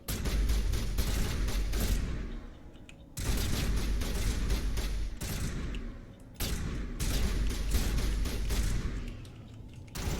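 Rapid gunfire from the video game Mass Effect Legendary Edition, played on Insanity difficulty: three long, dense bursts of shots, loud and close, with short pauses between them.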